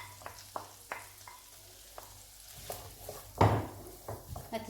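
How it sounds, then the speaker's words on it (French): Chopped onion sautéing in a spoonful of butter for a leek quiche filling, a steady close sizzle with scattered stirring knocks and one louder scrape partway through. "Je fais revenir mon oignon dans du beurre."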